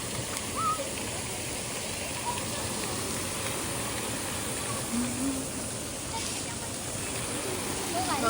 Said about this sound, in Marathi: बघा आता तुम्हाला पाणी पडतं ना, बादली भरते अजून.